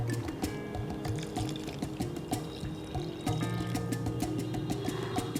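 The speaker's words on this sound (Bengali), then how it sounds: "এবারে আমি যে বাটিতে সুজি নিয়েছি সেই বাটির পরিমাণে আমি জল দিয়ে দেবো 1 বাটি।" Water pours steadily into a bowl of semolina, a continuous close trickling and splashing stream that runs alone for several seconds.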